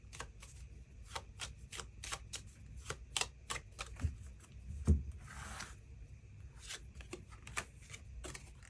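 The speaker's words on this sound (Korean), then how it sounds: "그럼 3번 분들 추가 카드로 일별로 월요일부터 일요일까지 어떤 하루하루를 보내게 될지 추가 카드 뽑아보도록 하겠습니다" Tarot cards being shuffled close up, a quick run of crisp flicking and riffling snaps with a soft slide midway and a couple of light knocks, quiet with no talk.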